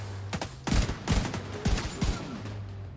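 Rapid bursts of automated turret gunfire in The Division 2, several clustered volleys of sharp shots with brief gaps between them, loud and close with no talking.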